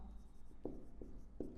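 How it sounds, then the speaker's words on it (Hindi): Pen or chalk writing during a Class 10 maths lesson, a few short scratchy strokes, quiet and close, with no voices. "अब लिखेंगे इस प्रकार"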